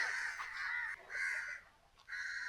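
Crows cawing harshly while fighting on a remote island during a kayak expedition, three long rasping calls in quick succession, close and loud, with no talk.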